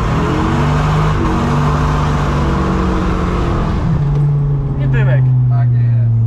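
A Dodge Viper sports car accelerates hard with a loud, sustained engine roar whose pitch climbs and shifts through a gear change, heard close from inside the car, with voices under the noise.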